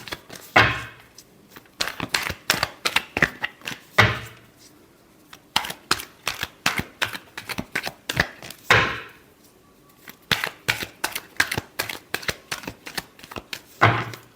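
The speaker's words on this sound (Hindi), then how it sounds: "Last shuffle." Tarot cards being shuffled by hand, with rapid bursts of sharp riffling clicks in repeated flurries separated by brief pauses, close and clear with no voices.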